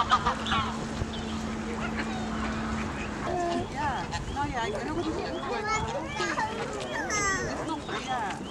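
Ducks and geese quack and honk as people feed them in front of Reykjavik city hall, with the birds' calls scattered over a busy outdoor background and people talking.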